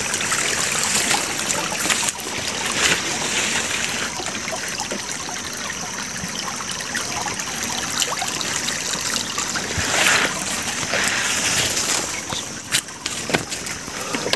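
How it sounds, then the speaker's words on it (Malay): Cold spring water at Karang Panjang flows and trickles steadily close by, a continuous splashing gurgle with occasional sharper spatters, no voices heard. "Ini sumber airnya."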